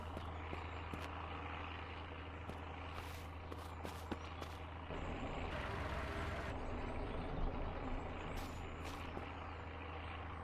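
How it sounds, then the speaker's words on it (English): Truck engine in the survival game SurrounDead: a steady low rumble that runs throughout, growing louder and rougher about halfway, with scattered faint clicks and thumps and no talking. "That's not my truck."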